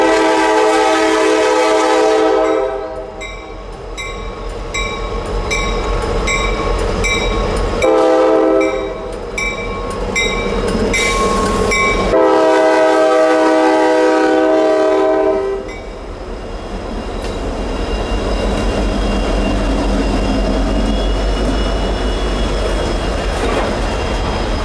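Local freight train led by locomotives CSX 1186 and NS 5642 sounds repeated loud horn blasts nearby, with rumbling engines and rolling wheels continuing underneath as it moves off.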